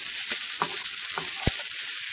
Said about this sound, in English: hear the sizzle. That's when it's going to start to brown the veggies.